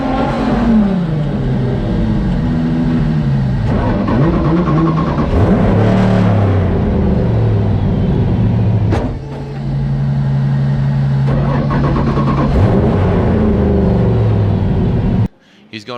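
A Ford Mustang RTR drag racing off the start line on a new clutch: a loud, near engine revs hard through rising and falling gear sweeps, with a brief dip midway, before cutting off abruptly at the end.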